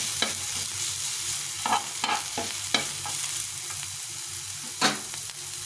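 Sliced onions sizzle in hot oil in a pan for an eggplant bharta, a steady frying hiss broken by soft scrapes and clicks of a spatula stirring.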